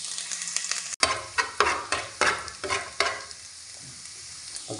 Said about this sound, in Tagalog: Igigisa na nga po natin yung bawang.